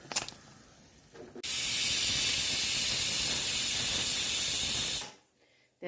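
A pressure cooker holding beans and raw papaya vents a loud, steady hiss of steam that starts abruptly, holds for several seconds and then cuts off, with no one speaking.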